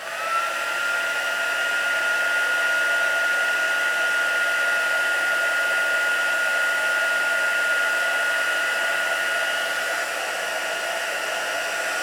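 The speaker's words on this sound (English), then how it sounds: "I'm going to start my heat gun first, let it heat up for a while" A heat gun warming up for a mica flake craft, a constant loud whooshing blower with a steady tonal whine that runs unbroken from start to end, near and alone.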